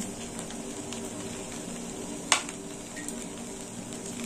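Rice frying with spices in a pan for mixed vegetable rice, a steady soft sizzle with a sharp scrape or clink partway through, no talking.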